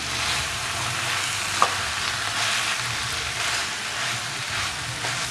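Bread crumbs being stirred into chilli bread in a hot pan: a steady sizzling frying hiss with soft scraping from the stirring, close and continuous, and no talking.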